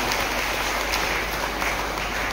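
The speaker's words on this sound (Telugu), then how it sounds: "ఈ రోజు అందరూ కూడా గట్టిగా చప్పట్లు కొడుతూ వారిని ఆహ్వానించడానికి" Catholic congregation at a parish Mission Sunday celebration clapping loudly in welcome, a dense, steady wash of applause that fills the whole stretch with no pause.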